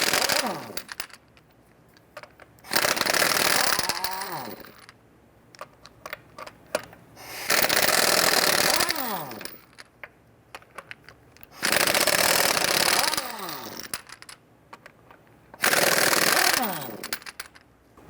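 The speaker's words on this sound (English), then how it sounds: "Go ahead, loosen and remove the lug nuts." Impact wrench with a 21mm socket spinning off lug nuts on a 1994-2004 Ford Mustang, four loud whirring bursts of about two seconds each, winding down, with clinks of nuts in between.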